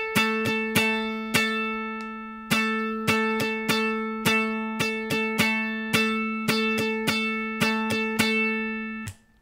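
A rhythm guitar strums two bars of a song's chord pattern, with crisp, bright, evenly spaced chord hits in a steady syncopated groove, played alone with no voices.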